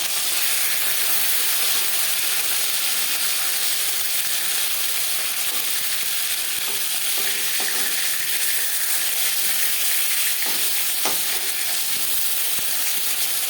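Rohu fish pieces fry in hot oil in a pan, a loud, unbroken sizzling hiss with a few faint clicks and spatters near the end.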